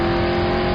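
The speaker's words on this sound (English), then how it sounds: "it also has some engine sound, right?" A car engine in a played-back recording, a steady close droning hum with a strong tonal whine, continuous through the brief moment without speech.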